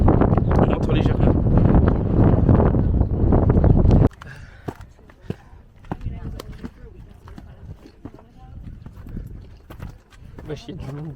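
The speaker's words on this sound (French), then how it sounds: "en plus, il y a tellement de vent" Strong wind buffets the microphone on a crowded mountain summit, a loud roar that gives way to lighter gusts. Voices and people moving around are heard underneath.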